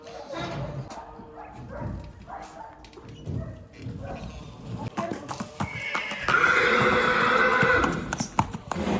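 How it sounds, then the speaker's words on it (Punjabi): A mare neighs and whinnies, mixed with other animal and crowd noise; a louder, bright whinny rises near the end. "ਕਾਕਾ ਕਾਲੀ ਦਾ ਭਤੀਜਾ ਅਰਜਨ ਵੈਲੀ ਇਹ ਨੁਕਰਾ ਤੇ ਇਹ ਇਹ ਘੋੜੀ ਤੇ ਸਵਾਰੀ ਕਰਦੇ ਹੁੰਦੇ ਆ"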